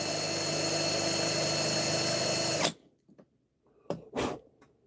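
A power drill with a bit running steadily and close for about two and a half seconds, then cutting off abruptly, followed by a couple of short faint knocks.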